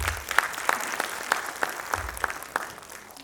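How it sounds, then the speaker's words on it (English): Audience at a conference inaugural session gives a round of applause, a steady wash of many hands with a few louder individual claps punctuating it at roughly regular intervals, moderately distant, no talk. "Can we have a round of applause?"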